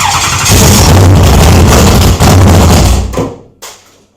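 A race car engine fires up and runs, a very loud close roar holding for a few seconds before cutting off abruptly, followed by a brief final burst and quiet.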